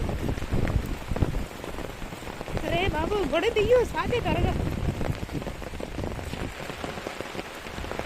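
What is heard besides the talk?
heavy rain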